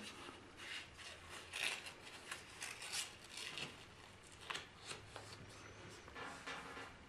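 Paper being folded and creased into an origami envelope or gift box gives faint, close rustles and sharp crisp swipes in an irregular series, with no voices.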